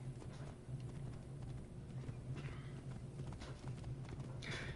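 Horse hooves clip-clop at a steady walking pace in Assassin's Creed Origins, a continuous rhythmic patter of fairly faint steps, with a soft snort near the end.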